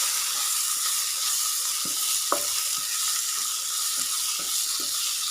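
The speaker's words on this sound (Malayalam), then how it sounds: "തക്കാളിയും കൂടെ ചേർത്ത് കൊടുത്തതിന് ശേഷം ഒന്നുകൂടി ഒന്ന് വഴറ്റി കൊടുക്കാം" Tomatoes sauté with spices in a pan, giving a steady close sizzle with scattered clinks and scrapes of a stirring spoon and no talk.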